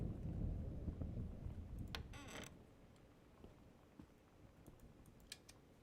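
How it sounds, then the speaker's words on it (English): Thunder rumbling upstairs in the video game Gone Home, a low muffled rumble strongest at the start that fades, with a few faint creaks and clicks after it. "And I still hear the thunder upstairs."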